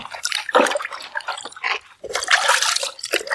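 Water poured while an item is washed outdoors on a farm, giving splashing, dripping liquid sounds in short uneven bursts, close and fairly loud.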